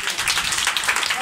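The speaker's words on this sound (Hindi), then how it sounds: "उस जलाली खुदा के लिए ताली बजाएं" Children at a Bible study school clap together for God, a short burst of bright, fairly loud clapping that fills the moment.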